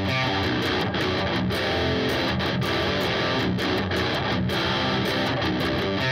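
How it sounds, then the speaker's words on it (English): Heavily distorted power chords on a Vigier Excalibur Special seven-string electric guitar through a humbucker chug in a driving, rhythmic pattern with short palm-muted stops, loud and upfront with no voice. "let me play you some power chords and a little bit of lead from this particular humbucker"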